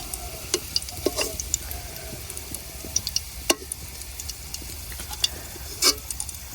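Onions frying in oil in a home kitchen, a low sizzle under scattered clicks and scrapes of stirring, with no speech.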